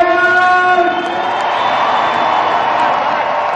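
A crowd at an Ice Hockey World Championship 2015 game between Germany and the Netherlands in Leipzig: a broad arena roar with a sustained tonal horn or chant rising over it, loud and continuous.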